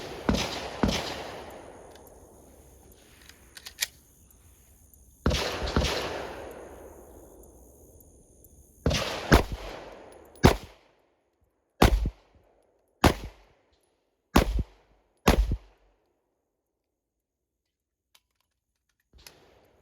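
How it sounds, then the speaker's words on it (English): H&K VP9SK pistol fired through an El Presidente drill on an outdoor range, sharp loud shots in pairs with a pause for a reload, each crack followed by a short echoing tail. "I'm going to shoot the H&K VP9 SK with a El Presidente."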